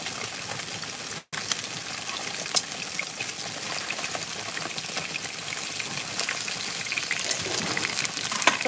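Salmon fillet frying skin side down in a pan with cream, garlic and butter nearby, giving a steady broadband sizzle that runs throughout with a brief dropout near the start and no talk.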